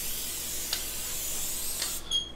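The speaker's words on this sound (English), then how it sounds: "So we're gonna spray the cooking sheet." Cooking spray mists onto a baking sheet in two brief bursts, a soft hiss against steady background noise, close by and fairly quiet, just before salmon is placed on the sheet.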